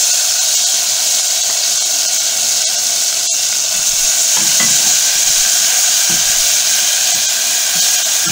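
Harissa fries in a pan with a loud, continuous sizzle and hiss, broken now and then by a few light clicks from stirring.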